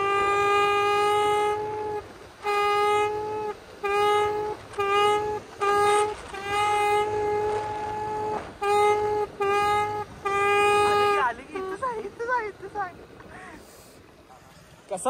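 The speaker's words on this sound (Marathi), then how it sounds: "कसं वाजत्या गाड्या नाद करते काय" A train sounds its horn in a long series of loud, blaring blasts in rhythmic bursts as it passes close by, followed by softer rail noise and people talking.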